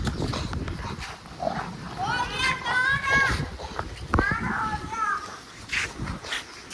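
A dog barks in bursts amid excited children's voices and chatter during a ball game, the barking fairly close and lively.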